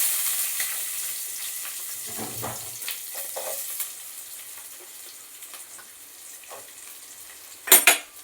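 Onions frying in a pan give a soft steady sizzle, with a few stirring scrapes and a sharp clatter of a utensil against the pan near the end.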